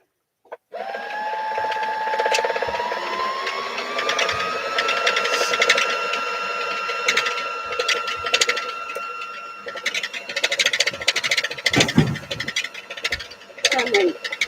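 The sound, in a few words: sewing machine winding a bobbin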